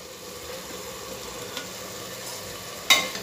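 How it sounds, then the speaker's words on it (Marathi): Masala pulao cooks in a pressure cooker with a low steady sizzle, then a brief sharp clatter rings out as tomatoes go in near the end. "आता यात आपण टोमॅटो घालून घेणार आहोत"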